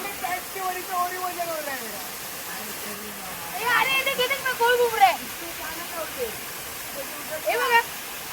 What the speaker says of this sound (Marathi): धबधबा बघा तिकडे आहे